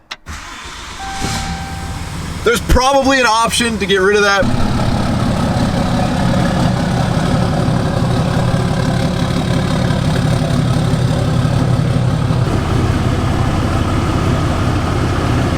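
A diesel pickup truck cranks over after its glow plugs preheat, catching with a brief burst and then settling into a steady, close diesel idle that runs on; one person talks briefly near the start.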